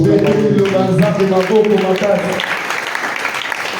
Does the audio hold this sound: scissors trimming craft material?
no